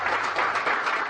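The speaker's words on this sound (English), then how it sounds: "Each day at trial, they would applaud for Yolanda Rosa" Applause fills a courtroom during a murder trial, a steady dense wash of many hands clapping at moderate distance, with no voices heard over it.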